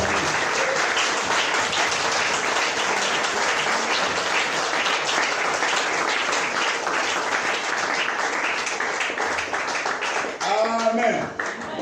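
A church congregation claps and cheers for Jesus at an evening service: loud, dense applause runs steadily throughout, and a few voices rise near the end.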